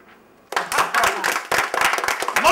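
An audience bursts into clapping at a stage comedy show, the applause starting abruptly after a brief quiet moment and continuing as a dense, steady patter of many hands, loud and close.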